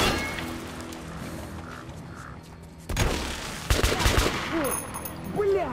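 Gunfire in the video game Metro: Last Light, dense bursts of shots crackling loudly in the second half over a steady game-ambience background.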